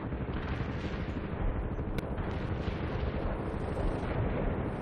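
Artillery rounds pound down in the World in Conflict battlefield, a dense, continuous rumble of blasts and fire lasting throughout with one sharp crack midway.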